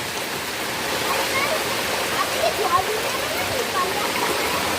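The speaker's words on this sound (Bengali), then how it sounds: "ছাদের জল পড়বে না গাধা?" Rainwater pours off a house roof during heavy rain, a steady, dense rushing splash like a small waterfall, fairly loud and continuous, with faint voices in the background.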